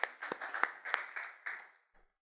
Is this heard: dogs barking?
no